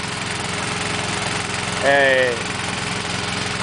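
A boat engine idles steadily while the boat sits in the water, a constant low drone that runs through the whole stretch, with a brief voice calling out over it partway through.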